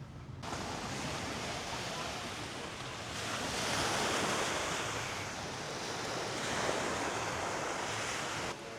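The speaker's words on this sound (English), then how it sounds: "So we've made it down to the lakefront, waterfront here in Granada" Lakefront waves washing ashore in Granada, Nicaragua, a steady broad rush of water with wind noise buffeting the microphone, swelling and easing over several seconds, with no clear talk.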